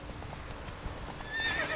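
A horse gallops in the video game The Witcher 3: Wild Hunt, during the Isle of Mists mission. Steady, close clip-clop of hooves runs throughout, and a whinny rises near the end.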